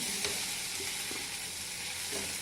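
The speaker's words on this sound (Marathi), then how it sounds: "त्याला परतून घेते छान आपण कांदा झाला का कांदा मऊ पडला थोडासा" Onions sautéing in a pan, a soft, steady sizzle with a few light stirring scrapes, fairly quiet and close.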